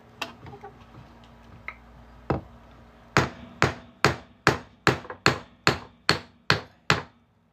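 A few faint taps, then a steady run of about ten loud, sharp metallic hammer blows striking a 1 ounce copper round while making a coin ring, evenly spaced and close.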